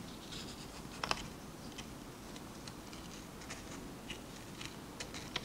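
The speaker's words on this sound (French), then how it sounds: "on continue à découper" Scissors snip through paper during a children's craft activity in a classroom, sounding as faint, irregular small cuts spaced over several seconds against a low background hum.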